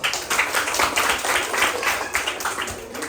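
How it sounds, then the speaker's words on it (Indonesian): A classroom of students applauds after group 5's presentation, with dense, steady clapping from many hands at moderate loudness. "Berikan tepuk tangan dulu."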